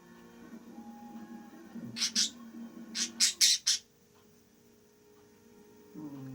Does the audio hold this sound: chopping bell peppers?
no